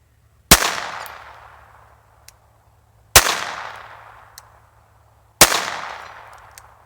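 Three sharp gunshots from a Taurus TX22 .22 pistol fired at a 100-yard target outdoors, evenly spaced a couple of seconds apart, each a loud crack with a ringing tail.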